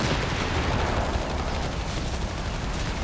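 Dense battlefield din from Company of Heroes 3, with a captain's artillery barrage coming down amid continuous rumbling blasts and gunfire, loud and sustained throughout with no distinct individual impacts.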